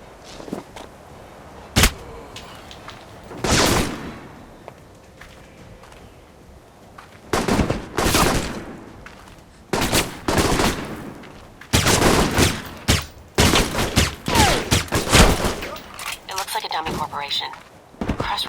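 Bursts of gunfire in the action game Alpha Protocol, with loud broadband volleys arriving in irregular clusters and growing denser toward the end, separated by quieter stretches with some speech.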